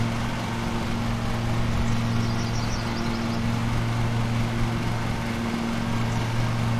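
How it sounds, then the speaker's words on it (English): Mulching lawn mower engine in Lawn Mowing Simulator, a steady droning hum with constant low tones, unchanging and moderately loud throughout with no talk. "this isn't the fastest mower between the three you can start with, but it is the only one that's mulching"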